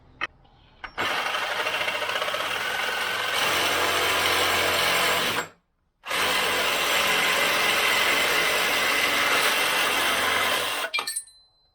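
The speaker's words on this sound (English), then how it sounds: "instead of cutting with the hacksaw, you can also use Sawzall." A Sawzall reciprocating saw cuts through a rail with a loud, continuous buzzing rasp. It stops once for about half a second midway, resumes, then halts near the end.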